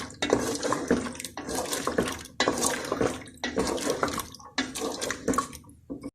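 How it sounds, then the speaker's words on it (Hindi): Water pours steadily in several bursts with brief pauses, a splashing, rushing flow into a cooking pot of fried potatoes and peas for vegetable pulao, close and fairly loud. "अब मैं पानी डालने लगी हूँ।"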